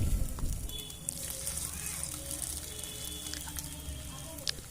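Shrimp fritters dropped one by one into hot oil, frying with a steady sizzle and scattered crackling pops, with a voice speaking over it.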